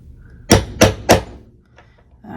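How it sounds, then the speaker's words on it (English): A hammer strikes an embroidered cheer megaphone bag tag three times in quick, even succession to flatten it, loud and close, followed by faint handling sounds. "I get my hammer."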